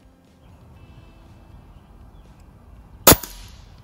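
A single sharp crack from an Air Venturi Avenger airgun firing at a small pop-it target sounds near the end after quiet room tone, with a short ringing tail.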